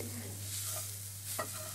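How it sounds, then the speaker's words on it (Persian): Dried fenugreek fries and is stirred in oil in a pan, a quiet continuous sizzle with a few soft scraping stirs near the end and no talking. "بعد حدود 2 قاشق روغن به اون اضافه میکنم، یکم که سرخ کردم 2 قاشق چنبلیله خشک بهش اضافه میکنم"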